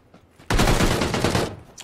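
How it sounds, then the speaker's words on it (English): Burst of automatic gunfire in the battle royale game PUBG, a loud dense volley of rapid shots lasting about a second, followed by a faint distant report. "There's gunshots by me."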